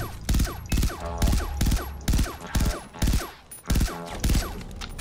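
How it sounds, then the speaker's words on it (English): Weapon fire in the shooter game Far Cry 3: Blood Dragon, loud repeated bursts of shots in a steady, pulsing rhythm, each volley close and punchy with short gaps between them. "That was a lot of bullets for that one guy."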